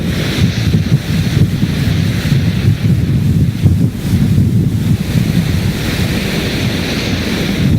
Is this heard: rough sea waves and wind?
yes